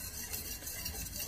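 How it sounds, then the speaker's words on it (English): Black powder mixture bubbling and simmering in a pan after heating, a steady close hiss with soft crackling throughout. "I'm going to just give it like 2 minutes just to stop boiling"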